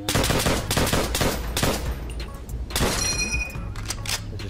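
M1 Garand rifle fire from the video game Call of Duty: World at War: a quick series of loud, sharp shots with ringing tails, played back at close range and loud throughout.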